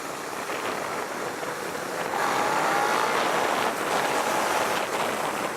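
A 2018 Suzuki SV650 motorcycle is ridden at a slow pace, its engine a steady droning rumble mixed with wind noise that swells slightly louder partway through, with no talking.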